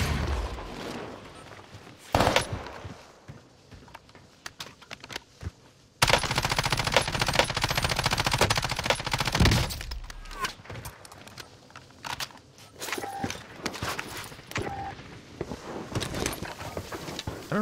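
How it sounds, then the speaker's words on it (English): Bursts of rapid machine-gun fire in Call of Duty Vanguard Warzone on Rebirth Island, sharp loud volleys around the middle with scattered shots, footsteps and movement between, and a player's voice talking over parts. "I don't know where this guy's shooting me from."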